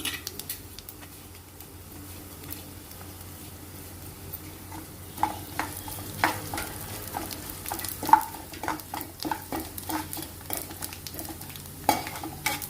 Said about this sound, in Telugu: ధనియాలు, మినపప్పు కొంచెం లైట్గా వేగింది కదండి. ఇప్పుడు జీలకర్ర వేసుకోవాలి.